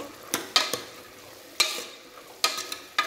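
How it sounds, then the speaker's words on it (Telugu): Curry leaves drop into hot oil for pitikina pappu saru and spit in a handful of sharp, crackling bursts, up close and fairly quiet with short pauses between. "ఇప్పుడు మనము కరివేపాకు వేసుకోవాలండి."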